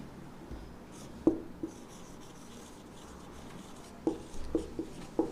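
Notes are written on a board during a physics lesson on image formation by spherical mirrors. Soft scratchy strokes and a few light taps come in two clusters with a quiet gap between them, close by and faint.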